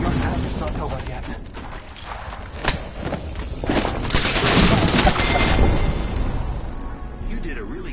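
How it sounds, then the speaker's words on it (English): A frag grenade thrown in the battle royale game Apex Legends amid heavy gunfire and booming blasts, dense and loud throughout, with footsteps and a voice talking over the fight. "Frag grenade set."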